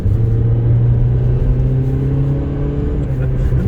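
A car engine revving in a low, steady rumble with a rising pitch, close and fairly loud for a few seconds.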